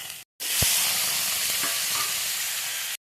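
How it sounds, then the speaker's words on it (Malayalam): Tomato and drumstick pieces sauté in a hot pan, giving a loud, steady sizzle after a brief gap, with a sharp utensil knock near the start and faint scraping under the hiss. "തക്കാളി മുരിങ്ങക്കായ നമുക്കൊന്ന് വഴറ്റിയെടുക്കാം."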